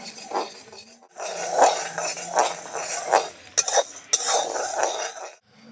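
Wheat grains rattle and scrape in a pan in repeated stirring strokes as they dry-roast, close up, with a couple of sharper metallic clinks.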